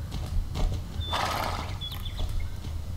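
Horse hooves clip-clopping as a rider travels in the Star Stable video game, mixed with a brief neigh and soft game sounds, steady and fairly close with no talking.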